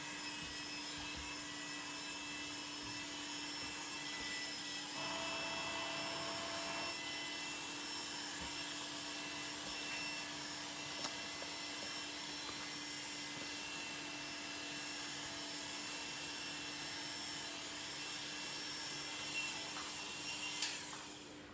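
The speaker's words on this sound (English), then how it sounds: "I actually like to flip the machine around and I come against the hair growth." Electric hair clippers run against the direction of hair growth during a men's haircut, giving a steady, close buzzing drone with a constant hum that lasts throughout, with no talking.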